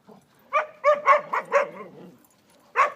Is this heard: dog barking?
yes